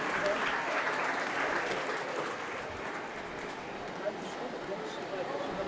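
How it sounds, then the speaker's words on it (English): Grandstand crowd at a harness race at a county fair in Wellington, Ohio applauding steadily after a race, a broad wash of clapping that gradually eases. "everybody clapping in the grandstand"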